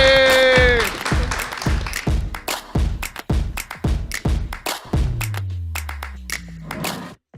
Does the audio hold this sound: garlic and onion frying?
no